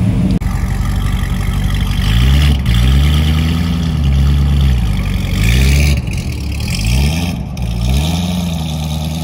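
Custom MBRP exhaust on a car at a cars-and-coffee meet, revving repeatedly in loud, deep rising-and-falling swells with a rough idle between pulls, close by.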